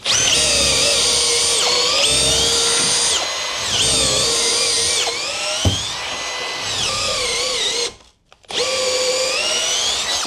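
A Milwaukee cordless drill with a 9mm bit whines at high speed as it bores into wood, running in several long bursts with short pauses and a brief stop near the end.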